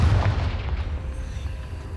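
A Confringo blasting spell going off in Hogwarts Legacy, heard as a brief low booming burst at the start that settles into a dull rumbling decay.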